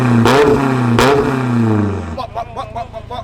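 A BMW E30 engine blipped with a raspy exhaust, two sharp loud revs that rise and fall back, then a lumpy idle burble close by, with a voice speaking over it.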